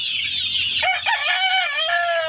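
A gamefowl rooster, a gray Carichua line bird, crows once close by, with a short, loud, wavering call that rises and holds before trailing off.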